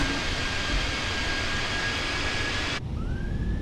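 Airliner landing at Minneapolis airport in Microsoft Flight Simulator: a steady, loud jet engine roar with a thin whine runs unbroken, then cuts abruptly to a quieter rumble with a rising tone near the end.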